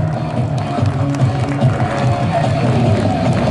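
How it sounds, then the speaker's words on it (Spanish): Outdoor crowd at a Los Halcones aerobatic air show applauding and cheering for the pilot Vader, a steady, moderately loud wash of clapping and crowd noise with a low rumble underneath. "Fuerte aplauso para Vader."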